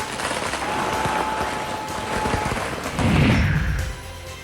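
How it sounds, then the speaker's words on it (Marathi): Firecrackers crackle in rapid, irregular bursts at an election victory celebration, a dense run of pops under a busy crowd din, growing louder toward the end. "फटाके फोडून कार्यकर्त्यांनी हा जल्लोष केला."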